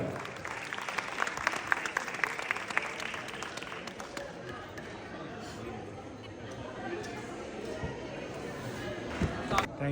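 An audience applauds at the Rajasthan International Film Festival in Jaipur, with scattered clapping swelling and fading among crowd chatter and voices over ten seconds.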